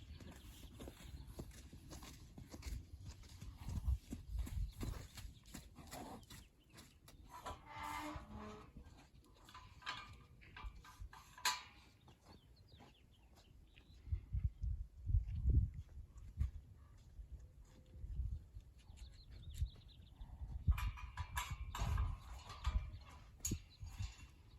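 A wild mustang moves about with intermittent hoof clip-clops, louder bursts separated by quieter stretches, fairly close by.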